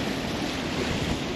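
Ocean surf along the coast near Cape Town as the tide comes in, a continuous broad wash of waves heard alone, with steady rushing noise and some wind.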